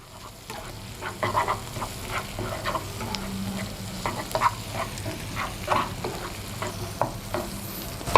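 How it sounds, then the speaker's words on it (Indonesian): Garlic with chili flakes sautéing in oil for spaghetti aglio e olio, a continuous close sizzle with repeated stirring scrapes of the spatula against the pan throughout. "Kita tumis hingga bawang putih dirasa cukup kering tapi tidak sampai gosong."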